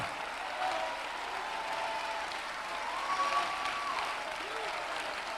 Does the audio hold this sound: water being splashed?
no